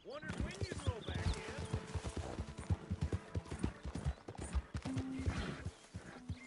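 A horse walks at a slow clip-clop inside a video game, steady hoof beats running throughout beneath frequent spoken dialogue and game sounds.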